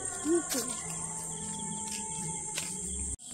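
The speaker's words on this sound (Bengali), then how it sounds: "চারিদিকে ঝিঝি পোকার ডাক দেখছো?" Crickets chirp all around at home in rural Bengal, a continuous high, steady trill that runs quietly throughout, with faint voices and a few brief background sounds underneath.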